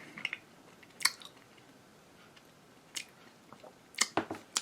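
Chewing chocolate candy close to the mouth, quiet squishy mastication broken by a few sharp crunchy bites in irregular bursts, with faint murmured sounds between.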